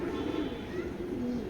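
A male short-balance tail pigeon gives a brief low cooing phrase up close, soft and steady.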